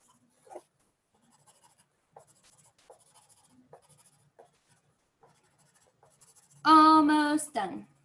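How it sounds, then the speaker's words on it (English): Faint, sparse scratches of a pen moving on paper in short strokes, followed by a loud bleating-like vocal burst near the end. "I don't know if you can hear all of my scribbling"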